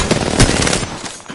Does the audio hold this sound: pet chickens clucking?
no